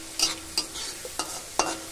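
Taro leaves cooked with mango being stirred and fried in a pan, a soft steady sizzle broken by a few sharp spatula scrapes at irregular intervals, close and moderately quiet with no talking.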